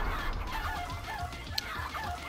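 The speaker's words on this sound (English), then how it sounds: "And now you go to the chickens!" Chickens in the video game Crash Twinsanity cluck in soft, repeated bursts over a low, steady game background, faint and somewhat distant.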